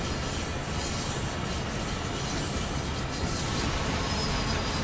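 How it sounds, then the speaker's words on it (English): A DB BR 363 V 60 diesel shunter in Deutsche Bundesbahn blue livery running in a train simulator game, a steady loud rumble of engine and rolling wheels that holds evenly throughout without speech. "Let's just stop the locomotive just in case I am on the wrong line."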